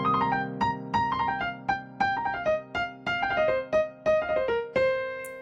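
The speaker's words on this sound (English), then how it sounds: "So you could even go through just the pentatonic scale and start on every note and do a slingshot." Piano playing a fast blues pentatonic slingshot run, quick cascading descending note groups repeated in bursts, clear and close with no talking.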